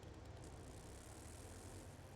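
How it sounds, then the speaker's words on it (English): An airplane drones overhead in the survival video game 7 Days to Die, a faint, steady propeller hum with no talk over it. "I hear an airplane."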